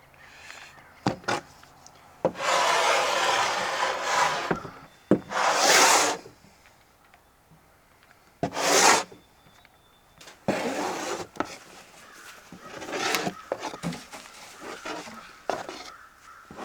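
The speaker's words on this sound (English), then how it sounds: "So we've done about all the cleaning and sanding that I can do right now." Sanding and scrubbing on an old wooden door being restored, heard as several bursts of rough, raspy rubbing, each lasting a second or two and separated by pauses, fairly close and moderately loud, with no talking.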